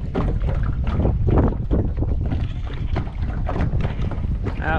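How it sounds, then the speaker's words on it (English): Gusty wind roars over a lake during a bass fishing trip. It rumbles loudly against the microphone and buffets in uneven swells, with water sounds faintly underneath. "That wind's picked up."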